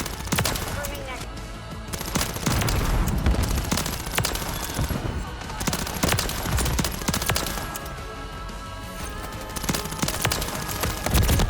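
Rapid bursts of automatic gunfire from a conversion-kit weapon in the video game MW3 crackle loudly and repeatedly, with short gaps between the volleys.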